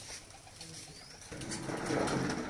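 Soft cooing from a racing pigeon landing after a flight, low and muffled, with faint outdoor background noise and a slight swell in loudness toward the end.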